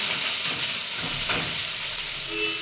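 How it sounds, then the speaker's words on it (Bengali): Mint leaves, onion, garlic and chili frying in a pan give a steady, close sizzle with occasional stirring scrapes, with no one speaking. "পেঁয়াজ আর রসুন লঙ্কা তো তিনটে একসাথে দিয়ে হালকা ভেজে নেব"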